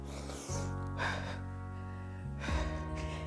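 A person breathes deeply during an abs workout, with a sharp inhale, a long sustained breath and another audible gasp, close and fairly quiet.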